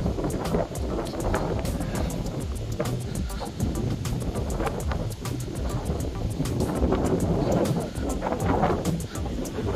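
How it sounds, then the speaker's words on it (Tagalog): Strong wind roars and buffets the microphone continuously, loud and gusty, with water and surf faintly beneath, at a housing development in San Pablo. "lakas ng hangin, no?"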